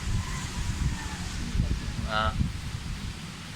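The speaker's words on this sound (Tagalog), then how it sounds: "Mahangin eh." Steady wind rushes and buffets the microphone, with a low rumble throughout and a brief whistle partway through.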